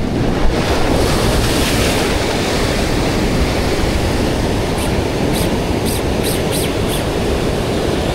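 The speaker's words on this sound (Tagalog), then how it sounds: "Uy, malaki ang alon." Large ocean waves roll and crash around a fishing boat at sea, a dense continuous roar mixed with heavy wind buffeting against the microphone and a few faint higher clicks toward the end.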